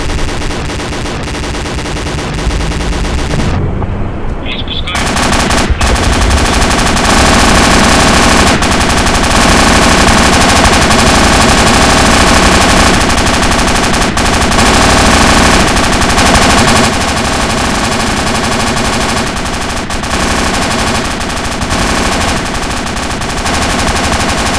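Sustained automatic gunfire in ArmA 2 with the ACE mod during an airport battle, loud dense bursts and fusillades running continuously after a brief opening lull, with no talk over it.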